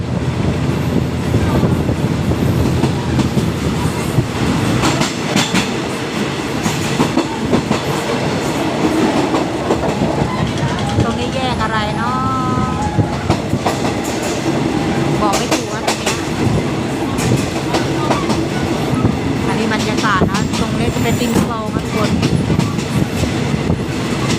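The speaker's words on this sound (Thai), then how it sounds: "ขบวนนี้มีสี่ตู้นะทุกคน เป็นคันสีฟ้าขาวนะ เป็นรถเร็วอะทุกคน" A blue and white four-car rapid train runs along the line in Bangkok, a steady loud rumble with clickety-clack of wheels over rail joints, rattling carriages and a faint voice beneath.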